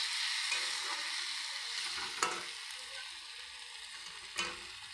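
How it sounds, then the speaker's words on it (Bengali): Fried lentil fritters being sautéed in a spice masala with garam masala, a soft steady sizzle in the pan with a couple of sharper stirring clinks, quiet and without talk. "ভেজে রাখা ডালের বড়াগুলো আমি এর মধ্যে দিয়ে আরেকটু কষিয়ে নেব।"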